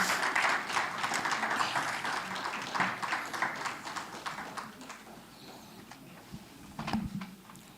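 A seated audience at a university campus dialogue panel event gives a round of applause, a faint, steady patter of many hands that thins out toward the end, with a few louder isolated claps near the close.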